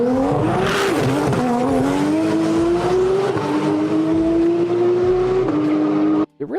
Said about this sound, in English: It really does sound like a tuner car.